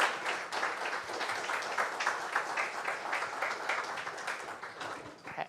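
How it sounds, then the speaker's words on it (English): An audience at the JuliaCon Global 2025 programming conference claps for a speaker, a steady spread of applause filling the room from start to finish and fading slightly at the end. "Let's give a round of applause to the speaker."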